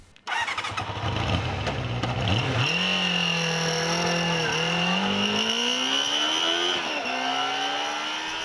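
A 1986 Kawasaki GPZ Ninja with a compact liquid-cooled inline-four fires up and settles into a loud, close idle, then the revs rise and dip in a few smooth blips with a steady whining tone.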